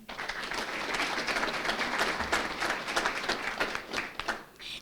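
Audience applause at a school board meeting: dense, sustained clapping from many hands, steady and fairly loud throughout with no speech over it.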